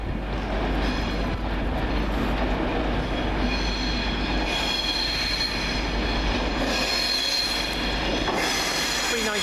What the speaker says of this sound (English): Next train in, the 1647 Virgin train West Coast service from London Euston to Glasgow Central.